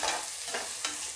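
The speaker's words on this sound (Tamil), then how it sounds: "இப்போ வெங்காயம், சின்ன வெங்காயம் இது நல்லா ப்ரௌனாலாம் ஆகும் இல்லை, ஓரளவு லைட்டாக வதங்கினா போதும்." Small shallots sautéing in a pan, a steady fry-and-stir hiss with a few louder scraping strokes, close and alone with no talk.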